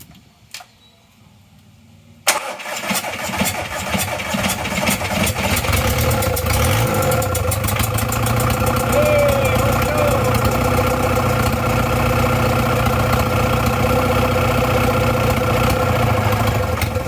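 A TDI diesel engine cranks over after its glow plugs heat, catches with a sudden burst after a quiet moment and keeps running with a rough, clattering steady idle.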